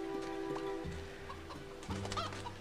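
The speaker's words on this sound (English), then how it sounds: "All these chickens. This is the chicken and cow zone." Chickens cluck in the Labyrinth City video game, soft repeated game-sound clucks over a steady tonal background, with no talking.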